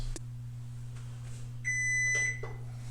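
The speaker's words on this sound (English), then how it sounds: "now my timer is off" A kitchen timer going off after four minutes of coffee steeping, a short burst of high electronic beeping over a steady low hum, faint and close.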